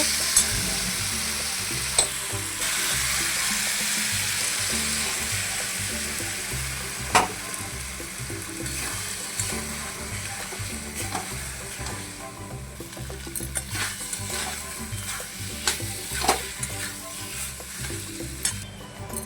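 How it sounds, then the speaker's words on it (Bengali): Ground poppy seed paste sizzles and fries in a pan, heard close and continuously while a spatula stirs and scrapes with a few sharp knocks. No one speaks. "এবার দিয়ে দেবো পোস্ত।"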